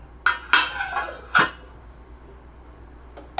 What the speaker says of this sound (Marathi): आणि परत आपण हे झाकून ठेवणार आहोत व्यवस्थित शिजण्यासाठी